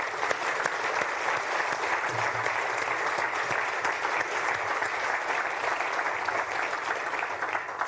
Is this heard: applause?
yes